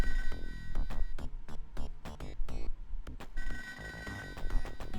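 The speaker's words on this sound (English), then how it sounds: "Also, where's the phone? I hear it." A telephone rings in the Sega Genesis game ToeJam & Earl, a repeating burst of ringing pulses over busy game music with no talk.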